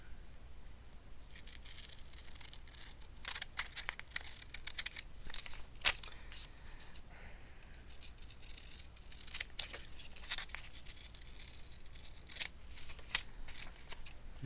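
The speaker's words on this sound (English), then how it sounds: "let's trim this down because we can't have any white borders" Scissors trim paper for a gluebook page in quick, scattered snips and crinkles, close and fairly quiet against a soft background hiss.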